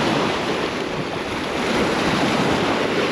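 Strong wind buffets the microphone on the shore of the Tbilisi Sea, with a steady broadband roar and surf-like rush holding constant and loud throughout, no speech.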